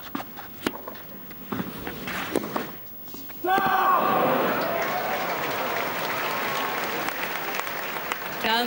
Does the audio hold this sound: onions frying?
no